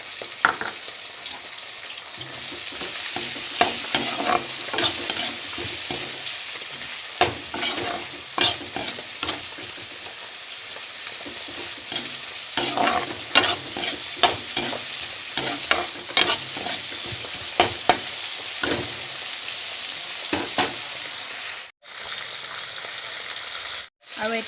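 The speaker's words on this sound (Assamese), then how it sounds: "আৰু এতিয়া মই ইয়াতে দালিকেইটা ভাজি ল'ম আগত।" Lentils (dal) frying in a pan, a continuous close sizzle with repeated scraping and clinking stirring strokes throughout.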